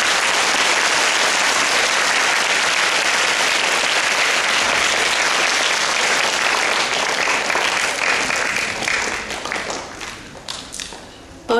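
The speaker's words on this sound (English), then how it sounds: "do you join your hands to give a great applause in appreciation to your principal" School assembly audience applauding the principal and teachers, loud dense clapping from a large crowd that holds steady and then gradually thins and fades toward the end.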